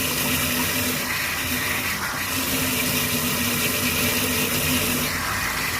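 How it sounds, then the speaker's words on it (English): Cold water gushes steadily from a tap turned fully on, a constant loud rushing hiss with no talking. "We turn the cold water all the way on."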